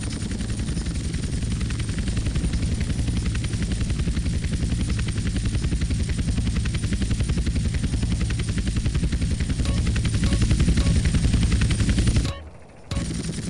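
Helicopter in Grand Theft Auto San Andreas, a loud, continuous rapid chopping of rotor blades with engine roar, steady and close for the whole stretch, dropping out briefly near the end before resuming.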